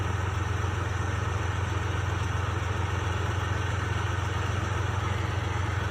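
A tank engine idling just after being started, a steady, dense, loud rumble with a strong low-frequency drone and broadband mechanical roar, unbroken and close throughout, with no talking.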